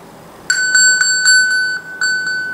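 An iPhone ping alert set off from an Apple Watch: a bright, repeating electronic chime pulsing about eight times in steady rhythm, close and clear with no talk.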